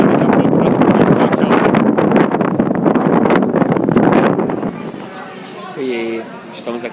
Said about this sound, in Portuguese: É vento, né?